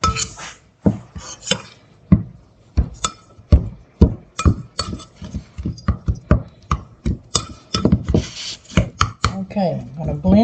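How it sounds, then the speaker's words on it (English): A pastry blender working fat into flour for a blackberry cobbler's pie crust topping, making close, rapid, uneven chopping and scraping strokes against a bowl that continue steadily with brief pauses. "Get out my pastry blender."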